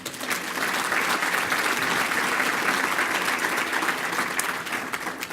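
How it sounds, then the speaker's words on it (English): A large audience applauds Danny Nagin at a State of the County 2018 event, producing steady, dense applause that holds evenly for about five seconds before tapering slightly. "Round of applause to Danny Nagin."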